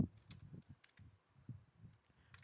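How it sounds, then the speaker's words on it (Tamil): Someone types on a computer keyboard while entering inventory voucher details, producing quick, soft, irregular key clicks that stay faint and close throughout. "அது எப்படி இருக்கோ அப்படியே தான் நீங்கள் டைப் பண்ணணும்"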